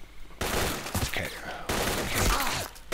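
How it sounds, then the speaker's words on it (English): Bursts of gunfire in the shooter game S.T.A.L.K.E.R.: Call of Pripyat, two dense volleys of rapid shots, loud and close, separated by a brief lull. "Someone's shooting me through the wood"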